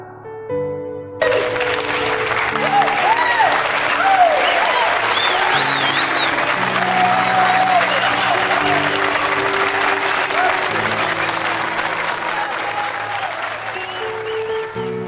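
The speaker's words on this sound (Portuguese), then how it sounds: "suas palmas são o louvor de vocês para o nosso Deus" A church congregation applauds loudly and steadily for the full length, a dense crowd of clapping with music and voices running underneath.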